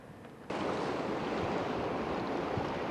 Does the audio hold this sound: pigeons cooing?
no